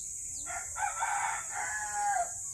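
A rooster gives a single long crow, loud and fairly close, rising and then holding before it tails off over a faint steady hiss, with no talking.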